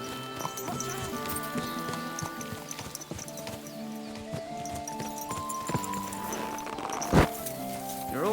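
Steady hoof clip-clop from a horse walking in Kingdom Come: Deliverance II, with a sharp whinny rising near the end, set over a busy background of ambient music and murmur.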